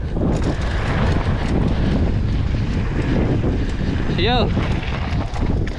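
Steady, loud wind noise buffets the microphone while riding fast at Flottsbro bike park on a windy day, a short shout breaking through near the end.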